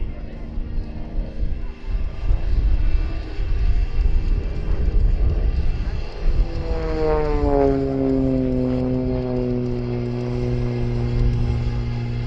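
An XA41 aerobatic propeller aircraft flies a display, its engine droning loud overhead and then rising sharply in pitch as it manoeuvres, with a commentator talking over it.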